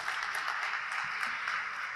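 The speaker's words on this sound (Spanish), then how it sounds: "Aplausos, por favor." Steady, dense applause from a conference audience at a circular-economy event, a continuous wash of many hands clapping at even loudness throughout, with no voices over it.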